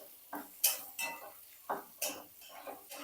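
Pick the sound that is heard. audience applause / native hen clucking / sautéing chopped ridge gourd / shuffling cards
sautéing chopped ridge gourd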